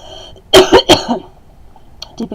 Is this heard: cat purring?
no